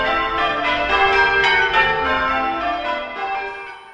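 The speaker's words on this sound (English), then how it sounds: "It really has the feel of the ringing" Church bells ring continuously in overlapping peals, loud and resonant, with no voices.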